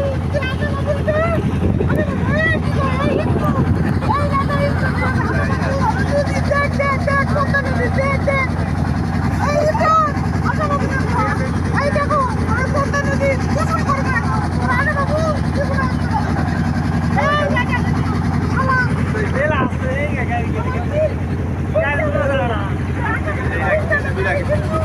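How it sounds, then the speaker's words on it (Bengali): A boat speeds along the Padma river, its steady engine drone and rushing wind noise continuous and loud throughout, with people talking over it. "দ্রুত খুব বেগে চলিচ্ছে আমাদের নৌকাটা"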